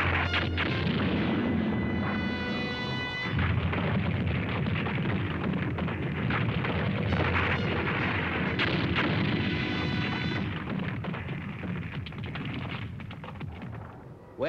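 Gemini rockets fire at a monster in a dense, continuous barrage of booming blasts and roaring rumble, loud and sustained with no break.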